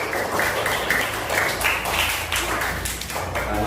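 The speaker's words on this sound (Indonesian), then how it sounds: "Kita tepuk tangan untuk semua." A school class claps together at the end of a lesson with a steady, fairly rhythmic patter of many hands, close and moderately loud, under a low background hum.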